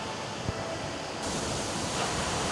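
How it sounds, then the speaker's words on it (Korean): Guryong Falls at Mount Kumgang, a mountain waterfall fed by merged streams, gives a steady broadband roar that swells slightly louder partway through, with no voices. "지금 이 폭포가 우리 금강산의 상징이라고 할 수 있는 구룡령 구역에 있는 구룡폭포입니다."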